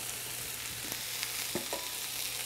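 Garlic and spices fry in a hot pan, Indian style, with a steady close sizzle and a few soft stirring scrapes and taps.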